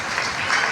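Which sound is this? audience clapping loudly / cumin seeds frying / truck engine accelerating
audience clapping loudly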